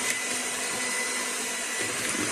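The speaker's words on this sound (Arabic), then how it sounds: "بخلط كده كويس كل المكونات دي مع بعض كويس جدا جدا" An electric mixer whirs steadily up close as it blends the date cake batter, a constant motor drone with no talking.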